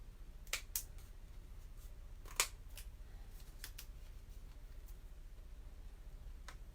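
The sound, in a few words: scissors trimming burlap ribbon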